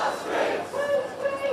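Crowd of protesters in the UK demonstrating against right-wing rioters and racism, a massed roar of voices shouting together, fairly distant and sustained for a moment.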